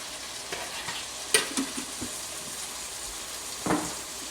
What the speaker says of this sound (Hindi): देखिए थोड़ी सी फ्राइड अनियन डाल के इसको अच्छी तरह से भून लेंगे।